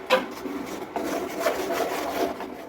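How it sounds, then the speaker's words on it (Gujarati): Milk powder being mixed into a thick coconut topra pak mixture, a dry rough rubbing and scraping that repeats in strokes, close and fairly loud with no voices. "હવે આપણે દૂધનો પાવડર ઉમેરશું। સારી રીતે મિક્સ કરી લઈશું।"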